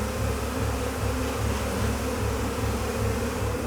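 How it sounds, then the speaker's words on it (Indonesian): A dense swarm of bees buzzes right at the microphone, a loud continuous droning hum with a pulsing texture and no pauses. "Ini banyak lebah."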